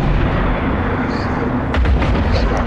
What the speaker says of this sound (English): Oh, he's firing missiles at us, do you notice?